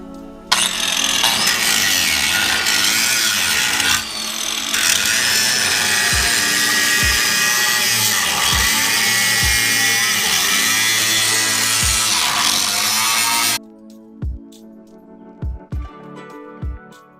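A loud, continuous power saw screams through car body metal in an engine bay for several seconds, with rhythmic knocks underneath, then stops, leaving a few sharp hammer bangs.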